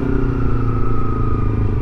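A motorcycle engine running close by at a steady, loud, rumbling idle or cruise, with no voices over it.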